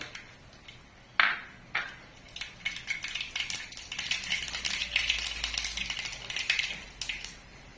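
Mustard seeds dropped into hot coconut oil crackle and pop: a couple of sharp initial cracks, then a growing, continuous spattering of small pops, close and moderately loud.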